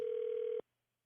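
A single steady telephone tone sounds as a call is placed on a phone, faint and alone, and cuts off sharply after about half a second.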